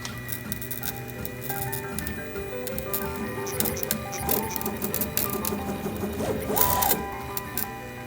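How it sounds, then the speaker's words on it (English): A 3D printer prints side supports, giving a steady mechanical whir with shifting stepper-motor tones and faint clicks that rise and fall throughout, with no talking. "he would print on his handy dandy 3D printer"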